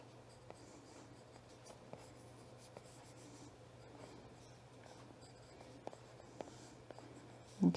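Stylus sketching on a tablet, faint close scratchy strokes and light taps in an irregular rhythm over a low steady hum.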